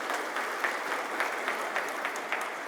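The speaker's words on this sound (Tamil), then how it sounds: "ஒரு பலத்த கைத்தட்டல்களுடன் வரவேற்கலாம்." Audience applause welcoming a district leader to the podium at a Tamil association's advisory meeting, steady dense clapping from a crowd lasting throughout, moderately loud with a few sharper claps standing out.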